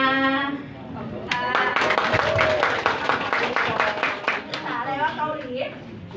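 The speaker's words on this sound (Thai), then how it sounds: "ขอเสียงปรบมือให้กับทุกท่านด้วยค่ะ" Audience applause at a business opportunity event's closing activity, a burst of many hands clapping that swells, holds steady, then tapers off, with a voice speaking over it at the start and end.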